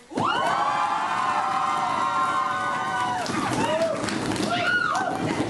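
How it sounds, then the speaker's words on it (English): A crowd cheers loudly at a student association election event: continuous shouting and rising whoops from many voices, with high yells and hollers layered over a dense roar, close and energetic throughout. "So let's hear them cheer really loud, guys."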